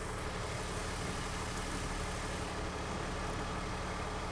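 A BMW/MINI car with an automatic transmission sits idling in park, its engine giving a steady, continuous low hum with no change in pitch, alone with no talk.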